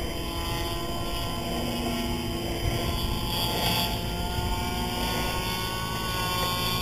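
A Big Stik radio-controlled model airplane engine drones continuously in flight, its throttle not responding, holding a steady, fairly loud buzzing whine with no break for the full stretch.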